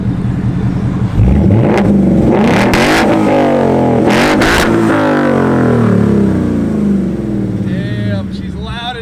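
A 2015-2017 Mustang GT with FlowMaster Outlaw axle-back exhausts revs hard a couple of times, a loud, close, rising and falling engine roar that settles back to a rumbling idle, with people talking over it.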